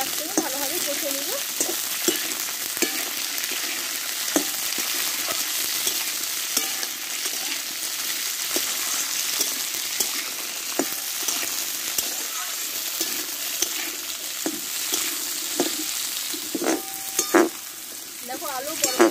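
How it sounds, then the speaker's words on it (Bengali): Potatoes and yardlong beans stir-frying together in a pan, a loud continuous sizzle with frequent spatula scrapes and clinks against the metal, close and steady with no talking. "এবার বরবটিগুলো দিয়ে দেবো আমি। এবার এগুলো আমি একসাথে ভালোভাবে কষে নিব।"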